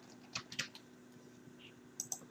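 Keys clatter on a computer keyboard in a few quick, faint clusters of clicks over a quiet hum as a username is entered.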